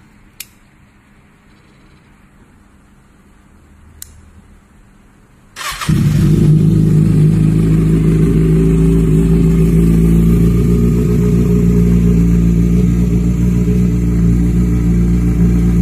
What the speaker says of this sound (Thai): เดี๋ยวผมจะพาไปฟังเสียงเครื่อง ZX6R จะเป็นยังไงบ้าง ไปฟังกัน